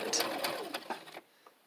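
A sewing machine makes a short burst of back stitches on a fabric mask, close rapid needle chatter that stops abruptly partway through.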